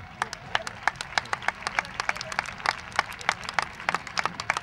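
A crowd claps at the CD Rota 2014/15 squad presentation. The applause is steady and dense, with many distinct hand claps throughout and no voices over it.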